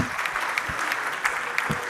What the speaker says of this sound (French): On applaudit Gilles Adelson et Juliette Guirado